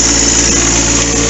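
A new John Deere 4x4 tractor engine is held at about 2,400 RPM, giving a loud, steady, close droning hum with no break.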